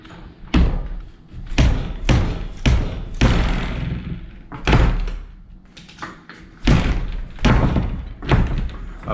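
A household door with a hard-to-close ball catch latch is pushed shut over and over, giving about a dozen loud, close thuds and bumps with short rattles between them.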